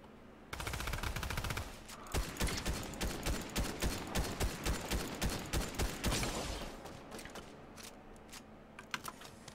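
Rapid automatic gunfire from a Fortnite match rattles out in dense bursts, then settles into a steady run of loud, evenly spaced shots before tapering into a few scattered clicks and pops.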